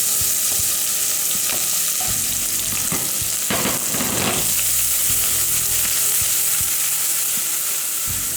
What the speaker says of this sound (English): Okay, so the oil is hot. We're going to add half a chopped onion.